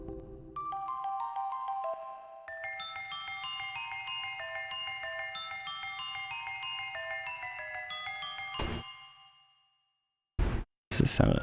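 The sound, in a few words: kalimba melody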